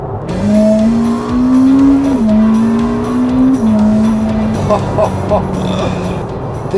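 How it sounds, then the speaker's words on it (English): A supercar engine revs hard on a downshift, loud and close. A sustained engine tone climbs and steps between gears, then breaks into quick blips, with someone talking over it. "you need to give it a bit of a downshift now and just see how it"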